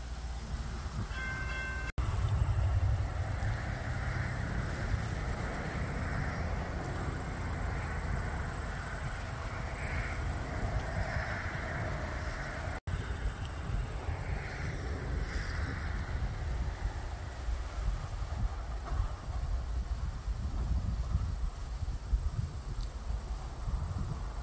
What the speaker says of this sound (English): This is NS 1067 leading train 259